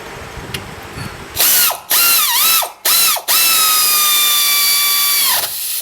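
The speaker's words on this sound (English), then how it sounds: "This air ratchet is, it's not the most fun thing I've ever used." A pneumatic air ratchet loosening brake bolts on a 2003–2007 Honda Accord, loud high-pitched whining bursts in short stutters, then a longer sustained run with pitch slowly dropping, close and alone.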